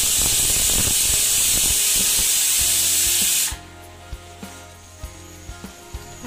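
Loud, steady hiss of a pressure cooker on full flame venting steam while cooking mutton and potato curry, cutting off abruptly midway and leaving quiet clicks and taps.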